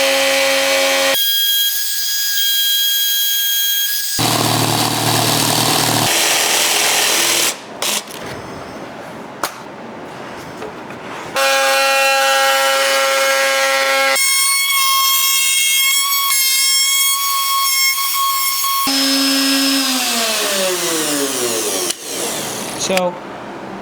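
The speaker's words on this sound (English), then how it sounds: "we eventually did a shallow pass with the router, jigsawed, and then finished it up with the router" A router and a jigsaw cut a plywood circle for a dining table: loud bursts of high, whining motor drone alternate with harsher buzzing saw strokes, separated by brief pauses and a winding-down whine.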